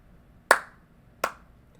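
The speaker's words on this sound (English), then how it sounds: "As then clapping's heard." Two sharp claps ring out about three quarters of a second apart, each a crisp close slap with a short decay, the room otherwise quiet.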